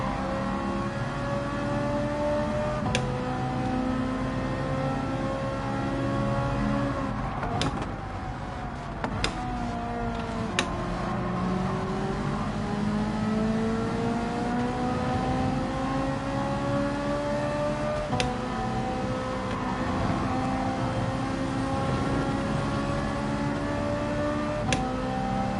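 Bugatti Veyron engine in Gran Turismo 7, a steady high-revving whine climbing and dropping through gear changes over a long stretch, with brief clicks, loud and close, and no voices.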